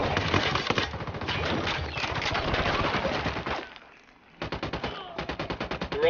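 Gunfire in Ghost Recon Wildlands: long, loud bursts of rapid automatic fire with a steady rattling rhythm, a short lull, then more clipped bursts resume.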